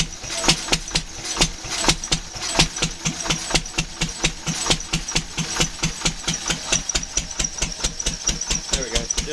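A generator engine throttles up, its steady rapid knocking firing beats running loud and close throughout with a slight rise in pace.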